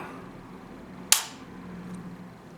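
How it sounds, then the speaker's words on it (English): A single sharp, loud crack as an HW100 bullpup air rifle fires once, cutting through an otherwise quiet background and fading quickly. "the gun went off with me pressing the trigger to the right place"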